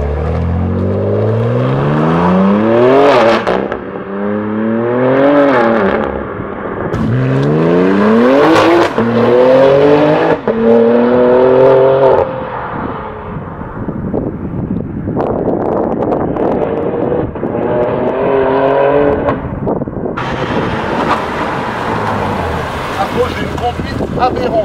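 A BMW M4 fitted with a full straight-pipe exhaust revs and accelerates up close, loud rising and falling engine sweeps through several gear pulls, then a rougher, crackling stretch with wind buffeting the microphone.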